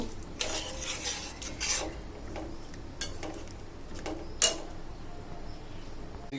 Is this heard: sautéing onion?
yes